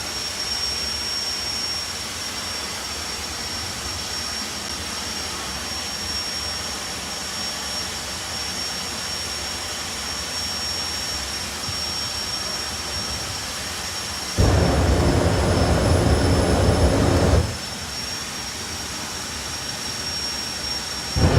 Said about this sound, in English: You can really hear the difference between the two different styles of jets.